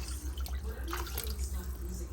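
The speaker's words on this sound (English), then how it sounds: "once I add my water, I gotta add a little more water" Water pouring into a pressure cooker while making Puerto Rican mondongo with tripe, a steady splashing trickle over a low hum, with a person's voice faintly present.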